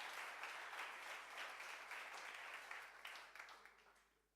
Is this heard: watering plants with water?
no